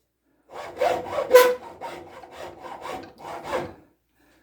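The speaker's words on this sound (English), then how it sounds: "one of the things that I like about using this hacksaw is the blade is flexible" A flexible-bladed hacksaw cuts wood for a rocking chair in about eight close, rhythmic rasping strokes, with no talk.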